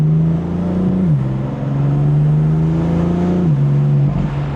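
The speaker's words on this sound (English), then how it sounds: "You can really hear the turbos spool up" A BMW M4 with the S55 engine driving on winding roads, a steady loud engine drone with rising turbo whine that drops briefly at gear changes and climbs again.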